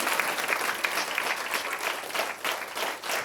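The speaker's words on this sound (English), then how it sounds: "Let's give a big round of applause for them." Enthusiastic audience applause at a TEDx Youth event, a thick, close wash of clapping that holds strong throughout with slight swells.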